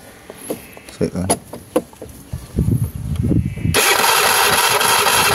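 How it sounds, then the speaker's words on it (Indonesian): A carbureted Honda Vario 110 scooter with a lost-ignition fault cranks and starts, its engine catching into a loud, steady running roar that fills the second half after stretches of talk. "ini pastinya motor sudah nyala kawan"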